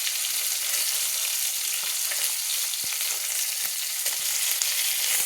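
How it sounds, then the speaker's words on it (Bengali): Pieces of fish sizzling steadily in hot oil in a pan, a dense, even crackle with occasional soft clicks as they are turned, no voices. "এইভাবে কিন্তু আস্তে আস্তে কিন্তু আমি উল্টে পাল্টে করে আমি মাছগুলো ভেজে নিয়েছি।"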